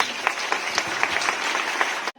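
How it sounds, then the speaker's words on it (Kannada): Applause at a school assembly, a short burst of many hands clapping steadily at close range before cutting off abruptly. "ಜೋರಾಗಿ ಚಪ್ಪಾಳೆ ತಟ್ಟುವ ಮೂಲಕ ಅವರನ್ನು ಅಭಿನಂದಿಸಬೇಕೆಂದು ತಮ್ಮಲ್ಲಿ ಕೇಳಿಕೊಳ್ಳುತ್ತೇನೆ"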